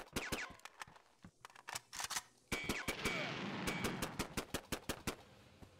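A weak, thin pistol fires repeatedly in the shooter game Operation Matriarchy, with a long series of short, snappy shots at an irregular, rapid pace over a faint hissing ambience.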